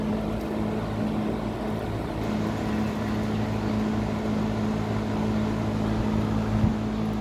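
A Berns Air King 20-inch box fan, model PR-20S, runs steadily on high with a loud, constant whoosh of air and a low motor hum, its grill faintly rattling throughout.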